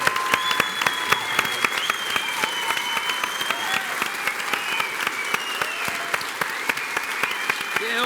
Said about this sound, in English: Please make some noise for John McGuinness!